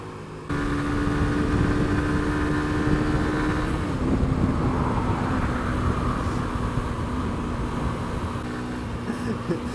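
A Suzuki GSX-R125 sports motorcycle drones steadily as it accelerates, with a constant mid-pitched engine whine that shifts slightly partway through and is accompanied by rushing road and wind noise.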